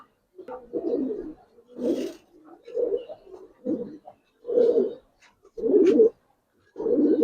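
Giribaz and coloring fancy pigeons coo close by, a run of about eight low, throaty coos in a steady rhythm with brief pauses between them.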